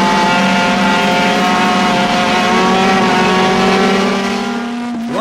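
Honda Challenge race car engine at Mid-Ohio, recorded from inside the cockpit: a loud, continuous high-revving drone with steady harmonic whine, pitch shifting slightly through gear changes before easing near the end.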